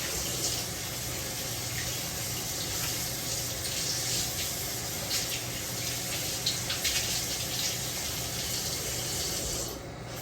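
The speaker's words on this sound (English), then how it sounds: "So, I'm just gonna rinse this off" Running sink tap water pours steadily while an item is rinsed under it for about ten seconds, close and loud, with no voices.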